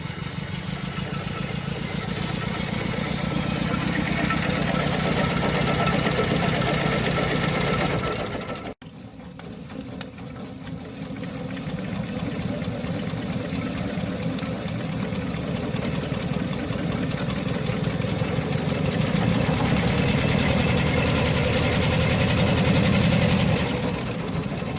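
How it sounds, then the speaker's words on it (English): A twin-cylinder model steam traction engine ticks over at low speed, a fast, even mechanical chuffing that runs close and steady throughout, with a brief cut near the middle before it resumes just as evenly. "how well the engine runs and ticks over even at low speeds"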